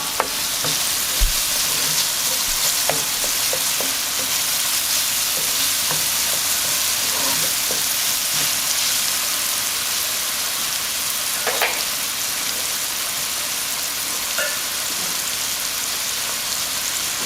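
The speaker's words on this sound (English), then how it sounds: "I'm gonna go ahead and saute these onions for about 2 to 3 minutes" Chopped onions sauté in lemon pepper oil in a pan, a continuous close hiss and sizzle with occasional light scraping from stirring, heard on its own without voices.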